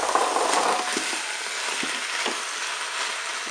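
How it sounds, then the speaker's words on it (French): Potatoes tumble into a hot Cookeo pot for choucroute, setting off a loud steady sizzle with a few soft knocks and stirring scrapes as they settle. "je vais ajouter les pommes de terre"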